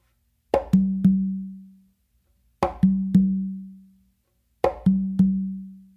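Conga pattern of a close slap followed by two open tones on the tumba, repeated three times with pauses; crisp attack and a resonant low ring after each stroke, no voices.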